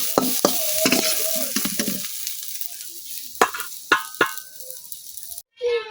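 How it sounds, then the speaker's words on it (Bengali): Onion, garlic and ginger fry in oil for an eggplant curry, with a crackling sizzle and repeated spoon scrapes and knocks against the pan that thin out toward the end. "পেঁয়াজ রসুনের সাথে কিন্তু আমি আদাটাও কিছুক্ষণ ভাজা নিচ্ছি।"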